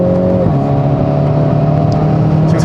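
A 2020 Hyundai Veloster N with a DCT gearbox drones steadily under load, then upshifts from third to fourth with a quick drop in engine pitch before the loud, close engine note pulls on evenly.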